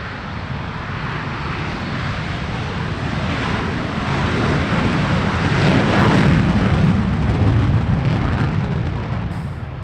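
Saab Viggen SK-37, the two-seat trainer variant of the Swedish jet, roars past at an airshow with a loud, sustained broadband engine rumble that swells toward the middle and stays strong throughout.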